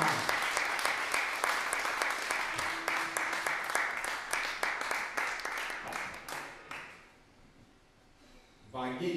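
Concert audience at a heavy metal club show applauding the band's musicians, brisk dense clapping that stays loud for about six seconds, then fades into quiet before a short burst of noise returns; a voice speaks over the applause.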